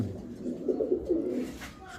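Cooing from large-headed male pigeons, a run of soft low throaty coos in the middle of the clip, fairly close and moderately loud over faint background noise.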